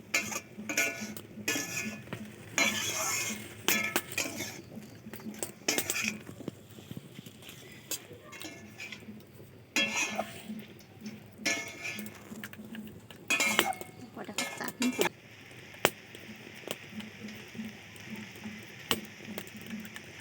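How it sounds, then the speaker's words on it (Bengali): Whole garlic cloves and spices being mixed in a pan with a utensil, irregular scraping and clinking strokes close by, busy at first and thinning out later, with faint background voices. "এখন এগুলোকে খুব ভালোভাবে মিশিয়ে নিতে হবে।"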